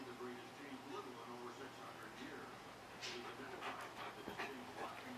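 Soft, rapid panting from a small dog close by, steady breaths with faint whimpers and a voice speaking briefly in the background.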